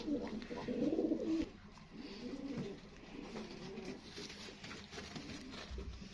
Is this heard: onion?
no